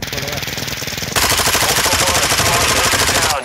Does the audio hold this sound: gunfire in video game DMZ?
yes